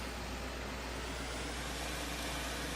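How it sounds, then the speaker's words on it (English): Engine of a little 4-cylinder diesel tractor in Farming Simulator 2013, a steady, loud, unbroken drone running at speed with no talk over it. "See how quick our little 4-cylinder diesel can get us?"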